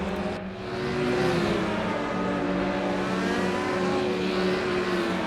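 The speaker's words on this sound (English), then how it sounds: "It's just the engine sound" A race car engine in RaceRoom Racing Experience drones at a steady high pitch, a continuous loud whine with a brief dip before holding constant.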